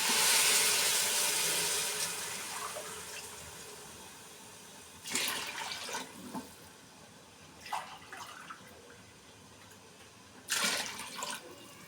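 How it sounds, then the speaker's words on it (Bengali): Cold water gushes into a rice cooker onto rice fried for pilaf, a loud pour at the start fading into trickling, followed by several short splashy bursts of pouring. "এখন আমি এতে চালের ডবল পরিমাণ পানি অ্যাড করে দিব"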